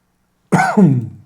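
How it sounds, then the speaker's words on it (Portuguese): A single short cough, close and fairly loud, breaking a moment of silence with a harsh throaty burst in two quick parts. "Minha tossinha está aqui, né?"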